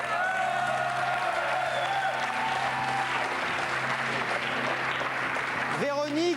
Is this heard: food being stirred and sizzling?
no